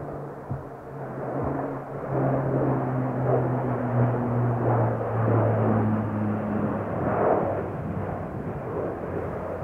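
A jet aircraft flies over a railway line during a Victorian-themed steam gathering, a steady broad roar with droning tonal hums that stays loud throughout, then slowly eases.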